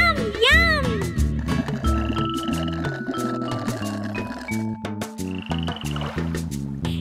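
Cartoon speckled frogs croak in playful, repeated calls set against a bouncy children's nursery-song backing, with the croaks popping up in short bursts throughout.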